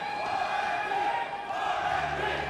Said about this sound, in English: I think the crowd are trying to tell us something, Blank.